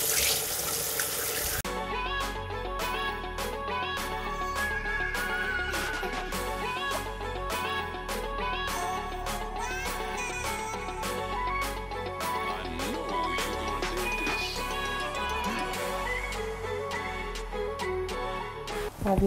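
Tap water running steadily into a sink while a face is washed by hand at home, a continuous loud rushing flow with splashing throughout, starting abruptly after a brief noisy opening.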